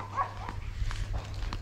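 Dogs bark at a passer-by on a walk down to the beach in Auckland, New Zealand: a handful of short, sharp barks at uneven intervals, moderately distant, over a steady low outdoor rumble.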